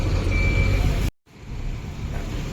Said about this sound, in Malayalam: നമ്മൾ മിക്സും വണ്ടി ഇതാ വന്നുകൊണ്ടിരിക്കുന്നുണ്ട് കേട്ടോ